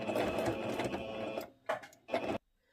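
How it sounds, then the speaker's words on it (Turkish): Sewing machine stitching fabric over elastic, closing the gap left for threading it: a steady, close run of rapid stitching for about a second and a half, then two short separate bursts, and no talk. "Lastik geçirmek için bıraktığım boşluğu da dikiyorum."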